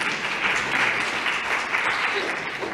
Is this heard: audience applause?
yes